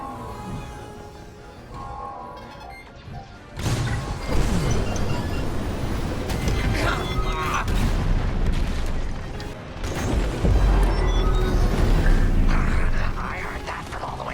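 Bomb blasts from a starfighter bombing run in the space combat game Star Wars: Squadrons, a series of heavy rumbling booms and crashes that build into sustained roaring explosions, loud and close, with brief radio chatter.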